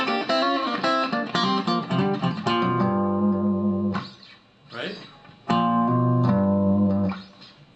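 Electric guitar lick played as a run of quick picked notes, then held sustained bends with brief gaps between phrases, clear and close.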